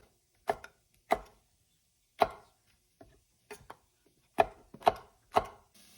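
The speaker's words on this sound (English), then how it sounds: "just give them a nice chop" A knife chops bell pepper pieces on a board with about ten crisp, close knocks in irregular rhythm and short quiet gaps between them.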